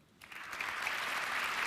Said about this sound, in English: your applause, ladies and gentlemen, for this historical moment